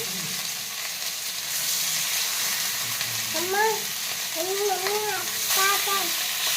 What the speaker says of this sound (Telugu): తర్వాత ప్యాన్ పెట్టుకొని ఆయిల్ వేసి అది కొంచెం మంచిగా వేగాక దాంట్లో ఫిష్ పీసెస్ అన్నీ వేసాము.